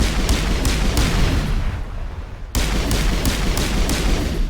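Rapid gunfire in the video game Mass Effect, dense bursts of automatic shots that pause briefly midway then resume just as hard, loud and close with no talk.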